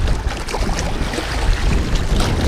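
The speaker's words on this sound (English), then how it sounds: "I'm back at the windy lake, and wouldn't you know it, it's windy." Steady wind blows across an open lake shore during a carp fishing outing, a continuous rough, gusty rush with heavy low rumble buffeting the microphone throughout, no voices.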